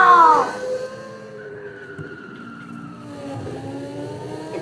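An Audi R8 sports car in a driving simulator game revs and whines as it launches off a jump, its engine tone sliding from a loud opening into a steady lighter drone, with a voice briefly heard.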